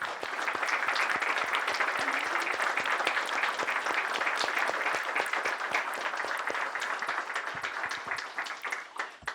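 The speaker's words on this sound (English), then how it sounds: "give a round of applause and thank Rusty for his service" A standing audience at a regular meeting applauds steadily to thank a veteran named Rusty for his service, dense clapping filling the room with no break for about nine seconds before slowly thinning.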